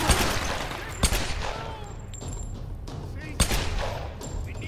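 Gunfire in the Tomb Raider video game, with a few sharp shots and a burst of firing over a dense background of game noise and ambience, moderately loud and close.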